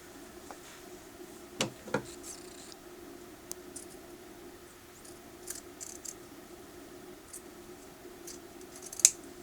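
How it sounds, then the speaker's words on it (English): Scissors trimming fabric seam allowances around curves, a few sharp snips and clicks scattered over a quiet background, close and fairly faint. "Trim your seam allowances around your curves, around the inside curve, and that can be trimmed more."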